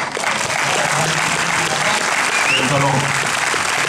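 A theatre audience at a film premiere breaks into sustained, loud, dense applause, and a voice speaks briefly over the clapping.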